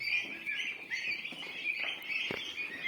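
A brooder of about a hundred baby turkeys on a poultry farm chirps constantly, the thin high peeps overlapping into a close, busy, unbroken chorus.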